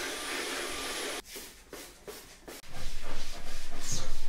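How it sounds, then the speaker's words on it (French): A vacuum cleaner hisses loudly while cleaning hair out of bathroom drawers, then stutters with several bumps and scrapes before resuming a strong, steady suction roar. "je vais passer l'aspirateur pour enlever les cheveux"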